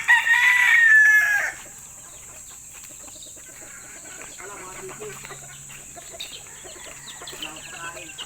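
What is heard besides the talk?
chickens clucking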